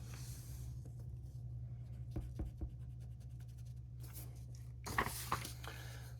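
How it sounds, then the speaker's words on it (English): Pencil lines rubbed out with an eraser at the corners of a block drafting drawing, giving short soft scratchy scrubbing bursts over a constant low hum, with no voices. "you can go back to the corners and erase out any extras in the corners"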